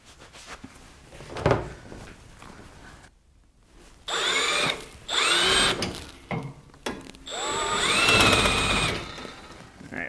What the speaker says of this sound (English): Go ahead and drill it and tap it.